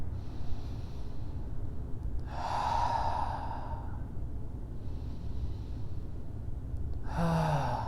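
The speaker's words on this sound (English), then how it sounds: "Deepen your breaths here." Slow, deep breaths during a guided meditation, two long breathy exhalations heard softly over a steady low background hum, spaced several seconds apart.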